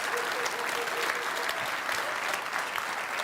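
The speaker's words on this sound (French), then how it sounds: "Est-ce qu'on peut les applaudir bien fort" A church audience applauds its pastors in sustained, dense clapping that stays loud and even throughout, with no voices rising above it.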